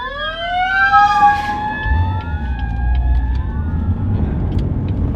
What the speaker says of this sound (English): Well, it's fire truck.